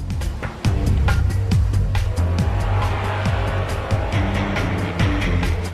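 A prototype train starting up and running on a test track, with a steady loud mechanical hum and rapid rhythmic clicking and ticking running throughout, close and continuous.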